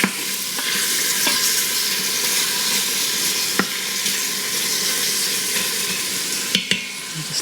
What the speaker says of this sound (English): I'm just flipping these around to get them just a little bit browned on all sides.